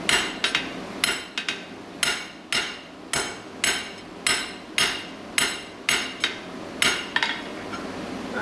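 Hot steel hammered on an anvil to upset and swell the bar: about fifteen loud, ringing metallic blows at a steady working rhythm, each with a short decaying ring, with no talking.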